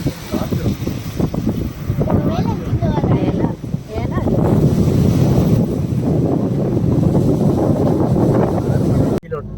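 Strong wind buffets the microphone in a constant low roar on a hilltop in Kumily, Idukki, Kerala, with voices talking underneath throughout.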